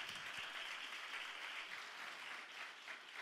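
Applause from an assembled group at a volunteer gathering, a faint, even wash of many hands clapping continuously, distant and low in level, with no distinct individual claps.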